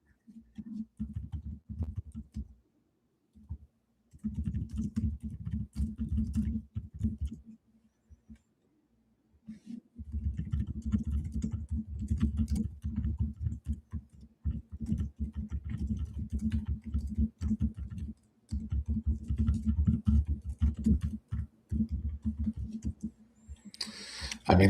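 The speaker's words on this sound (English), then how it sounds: "I'll be typing notes if I could get comfortable" Computer keyboard typing during a soap opera watch-along: bursts of fairly close key clatter with short pauses between runs, steady and moderately loud.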